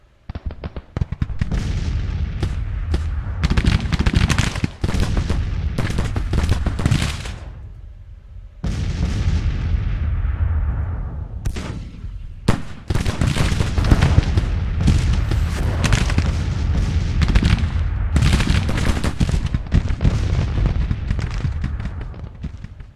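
American Civil War battle in the strategy game Grand Tactician: The Civil War, with dense, continuous rattling musket fire and booming artillery, loud and sustained with a brief lull partway through, no talking.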